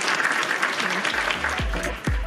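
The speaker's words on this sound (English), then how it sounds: "round of applause." Clapping and cheering fill the room during a podcast recording, with thumps and laughter-like voices joining in over the second half.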